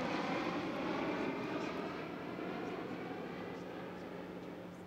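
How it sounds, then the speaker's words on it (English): A C-130 Hercules military transport plane passes in a joint military flyover at a harbor sail parade, its steady droning propeller roar loud and continuous throughout, with no talk over it. "C-130 Hercules, next plane in our joint military flyover."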